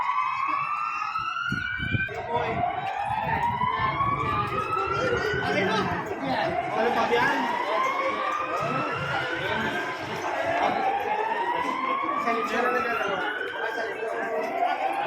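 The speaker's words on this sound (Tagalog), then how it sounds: "marinig po rito yung siren ng sirena po" A wailing emergency siren sounds during an earthquake drill, rising and falling repeatedly, loud and steady throughout, with a crowd of employees murmuring and voices talking underneath as they file out.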